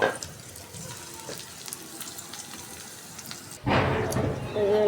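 Onion and chili hit a hot pan with bottle gourd, meant for cooking hilsa fish, setting off a sudden loud, hissing sizzle that continues after quieter kitchen background noise.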